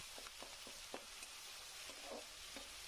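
Ginger paste with ground cumin and dried chili paste frying among spices in a pan, a soft steady sizzle broken by light spatula taps and scrapes, fairly quiet and close, no voices.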